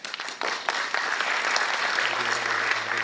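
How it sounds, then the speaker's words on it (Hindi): An audience claps steadily after a talk, dense and continuous applause filling the whole stretch with no speech over it. "अभी आपने तालियां बजाया"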